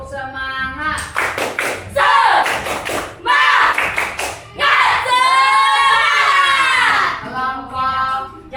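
A sixth-grade class chants together in sing-song unison, punctuating the rhythm with several sharp bursts of group hand clapping, loud and close in a classroom.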